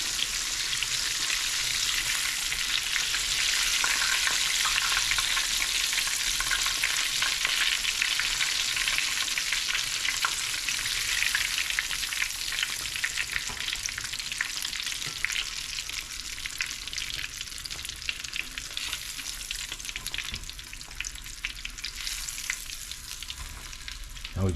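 Catfish deep-frying in hot oil crackles and sizzles continuously, a dense, steady hiss that fades slightly toward the end, with no talking.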